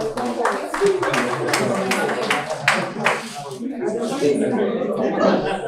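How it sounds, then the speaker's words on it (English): At a tech meetup in Port Harcourt, audience members clap for volunteers, a burst of rapid, uneven handclaps for about three seconds mixed with chuckles and chatter, then fading into background voices. "Please clap for the people that are volunteering. Let's clap for them"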